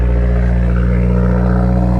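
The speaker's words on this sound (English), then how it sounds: "Listen to this exhaust." A salvage car with its check engine light on rumbles loudly and steadily close by, its deep exhaust drone holding an even, slightly rising pitch throughout.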